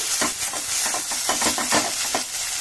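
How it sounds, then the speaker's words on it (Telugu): Fresh mint leaves fry and crackle in a hot pan, a steady loud sizzle broken by short scraping stirs of the spatula, close up and with no voices. "ఇలా పుదీనా దగ్గరికి మంచిగా ఫ్రై అయిందండి"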